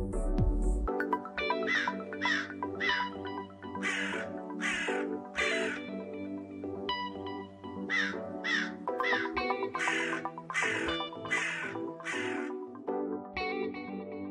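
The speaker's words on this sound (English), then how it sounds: "Crow." A crow cawing in a repeated series of harsh calls, some in pairs and some in quick runs, loud and clear over a steady music bed.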